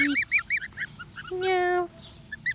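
Young goslings peep in quick, high repeated chirps, close up, with one longer honk-like call in the middle before the peeping resumes.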